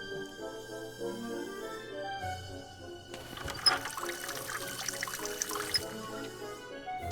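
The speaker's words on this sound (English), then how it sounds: "So, let's open the tap." Water runs from an opened tap in the point-and-click game The Raven, a broad steady hiss of flowing water starting partway through and continuing at moderate level over a soft musical background, without talk.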